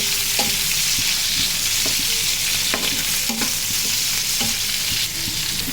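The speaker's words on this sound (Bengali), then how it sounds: "চিংড়ি মাছ আর রসুন পেঁয়াজ একসাথে রেখে ভেজে নিচ্ছি শাক ভাজির জন্য" Shrimp fried together with garlic and onion in a pan for a red spinach stir-fry, giving a dense, continuous sizzle that stays loud and close throughout, with occasional utensil scrapes and small clicks on top.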